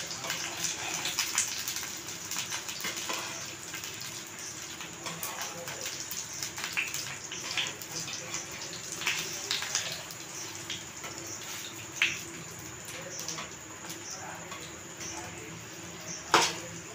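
A stuffed bread roll with egg fries in a pan, a continuous crackling sizzle with sharp pops throughout, fairly quiet and close.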